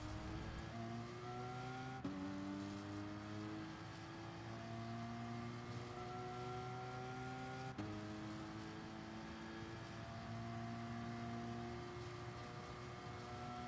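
Race car engine at Suzuka Circuit in Gran Turismo Sport, revving steadily upward through gears with two sharp shift breaks, a continuous loud whine filling the whole stretch with no talk.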